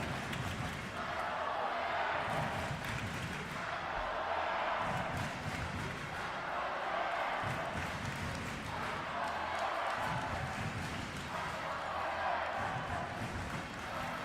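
Girls' senior volleyball finals crowd in a gym, Bears and Frontenac fans cheering and chanting steadily, a dense continuous roar with rhythmic swells throughout.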